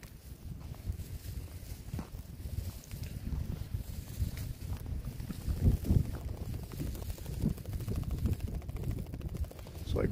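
Low, rumbling wind buffets the microphone steadily over an open frozen lake, with faint crunching footsteps and occasional thumps underneath.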